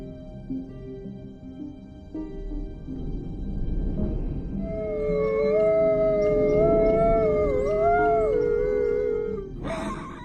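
Wolves howling as a pack near farmland, low murmurs rising into several long overlapping wavering howls that swell and fade, loud and sustained, with a sharp sound at the end.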